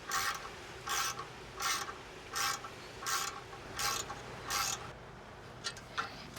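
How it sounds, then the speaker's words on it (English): An Allen wrench tightens the bolt on an RV step in a repeated rhythm of rasping, ratcheting turns, seven in a row, close and fairly quiet, followed by a few faint clicks. "to tighten it, we're using an Allen wrench"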